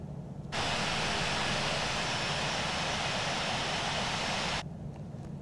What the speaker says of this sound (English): Delta 2095 is taking off runway 10, departing south